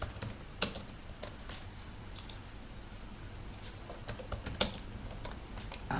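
Keys on a computer keyboard typed in sparse, irregular bursts of sharp clicks with quiet gaps, close and fairly soft against a faint background hiss.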